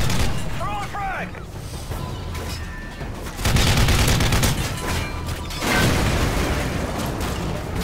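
Grenade blasts and heavy gunfire in Call of Duty: Modern Warfare 3, a dense battle mix with loud booming bursts around the middle and near the end, with voices shouting over the combat.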